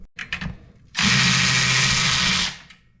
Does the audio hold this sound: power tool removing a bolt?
yes